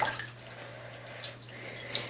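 Water is poured gently over a baby during a bath, a soft, faint trickle and splash over a steady low background hum, with a small splash at the start and another near the end.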